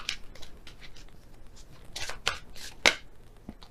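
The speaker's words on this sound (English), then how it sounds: "So I'll shuffle again and see which one comes out." Tarot cards being shuffled by hand for a reading, a run of soft, quick riffling and sliding bursts with brief pauses, ending in a sharper snap of cards near the end, close and fairly quiet with no talking.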